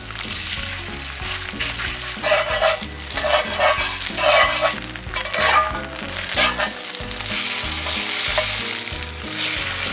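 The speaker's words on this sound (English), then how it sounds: "now it's time to get these patties on" Burger patties sizzle loudly in a hot pan, two at a time, with a constant frying hiss and bursts of spattering as they are pressed down; music plays underneath.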